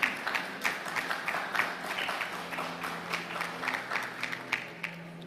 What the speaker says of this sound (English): And I think he deserves a good clap.